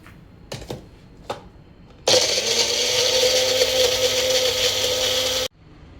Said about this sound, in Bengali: এবার এর মধ্যে টমেটো অ্যাড করে দিচ্ছি, দিয়ে আবার মিক্সিতে পেস্ট করে নিচ্ছি